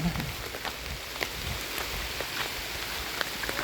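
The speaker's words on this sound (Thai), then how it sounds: "ฝนตกแล้วฝนตกแล้ว" Steady rain falls on a rice-seedling field, a constant close hiss with scattered drop ticks, while a voice is heard briefly at the start.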